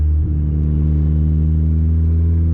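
A turbocharged Honda Civic D16Y7 engine floored in second gear gives a loud, steady droning hum with strong low harmonics, heard from inside the car and holding a nearly constant pitch.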